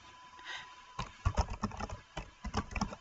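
Close, quiet tapping of keys on a computer keyboard while entering text in Word 2013, short irregular bursts of clicks after a brief pause, with no speech.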